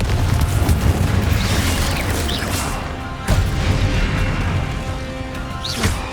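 A Confringo blasting spell exploding in the video game Hogwarts Legacy, two loud, booming blasts about three seconds apart, each trailing into a rumbling, crackling roar.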